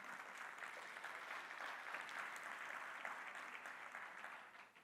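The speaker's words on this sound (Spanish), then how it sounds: "os quería pedir un aplauso para la organización" A health-sector conference audience applauds for the organisers, with steady, even clapping from a large crowd that stays faint and distant and fades slightly at the end.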